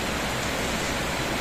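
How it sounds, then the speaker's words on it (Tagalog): Rain falling at night, a steady, even hiss that fills the whole moment with no voices or other sounds over it. "tas umuulan"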